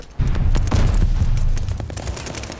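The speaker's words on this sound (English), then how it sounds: "That's a good grenade throw." A grenade detonates in Call of Duty Vanguard multiplayer, a sudden loud blast followed by rumbling debris and scattered gunfire that fades over a couple of seconds.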